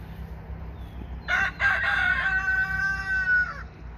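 Jessup the rooster crows once from his cage near the hens, a loud, drawn-out cock-a-doodle-doo that rises and then holds a long tapering note, set against a steady low background hum.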